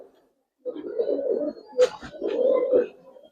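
Pigeons in a loft with old cages coo in soft, low, rolling calls, two close bursts separated by a brief flutter or click, with no talking.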